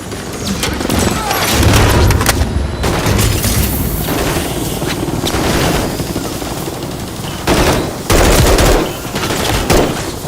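Heavy automatic gunfire in Modern Warfare 3 as soldiers fire on a helicopter during a reactor mission, loud sustained bursts with booming impacts and brief gaps.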